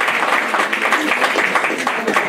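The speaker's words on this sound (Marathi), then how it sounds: "एकदा जोरदार टाळ्या झाल्या पाहिजे" An audience applauds at an anniversary and state-level award ceremony, a dense, loud burst of many hands clapping together, heard up close and sustained without pause.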